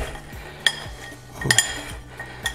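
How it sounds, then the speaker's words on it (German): Garlic Parmesan croutons being tossed in a pan with a utensil, light scraping and a few sharp metallic clinks spaced out over a quiet background. "mische ich den letzten Rest Parmesan nochmal unter und mische die Croutons dann"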